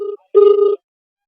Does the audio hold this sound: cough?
no